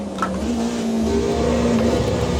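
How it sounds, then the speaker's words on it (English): A car in the Assetto Corsa EVO racing game runs steadily, and a gear shift brings a quick throttle blip that lifts the engine tone. The engine is close and loud, with no talk. "The clutch feels really nice and natural when I shift the gears and I blip the throttle"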